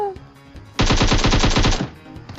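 Automatic gunfire from a PUBG Mobile match rips out as one loud, rapid burst of about a dozen shots lasting roughly a second, then cuts off.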